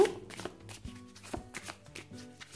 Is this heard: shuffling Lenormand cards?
yes